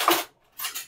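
A big metal spoon clinks against kitchen cutlery as it is picked out, two short bright clattering bursts separated by a brief silence.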